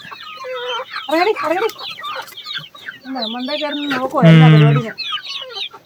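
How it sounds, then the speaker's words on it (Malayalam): Native country hens cluck and squawk close by in a backyard coop, with bursts of rhythmic clucking and one louder, drawn-out squawk. A voice talks over them at times. "നാടൻ കോഴിയില്ലേ നാടൻ കോഴിയാ ആ ടൈപ്പാ ഇത്"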